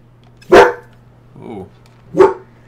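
A dog barks twice, loud and close, with a softer low growl-like sound between the two barks.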